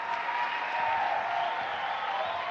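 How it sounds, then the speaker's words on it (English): Sustained applause from a large student audience at a youth gathering's opening ceremony in a hall, a dense even wash of clapping with crowd noise underneath. "Big round of applause, come on!"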